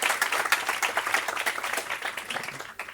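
Audience applause at the opening session of a debate event, steady dense clapping that swells and holds for a few seconds before tapering off near the end.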